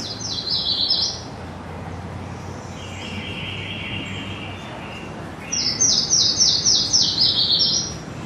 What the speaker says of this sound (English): That is a yellow-throated warbler. I heard one yesterday singing.